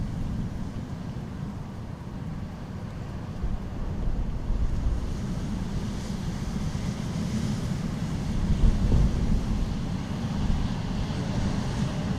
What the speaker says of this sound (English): It's certainly windy tonight.